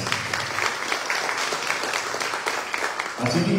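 Audience at an academic year inauguration ceremony giving sustained, loud applause that runs throughout, with a voice rising near the end.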